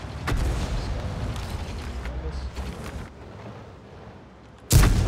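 A light tank in a video game fires a high-explosive shell, a sharp, loud boom near the end after a stretch of rumbling battle ambience, a single close shot.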